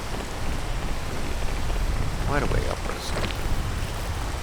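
Steady rain falls in the climbing video game Peak, a constant hiss filling the scene while a person talks over it.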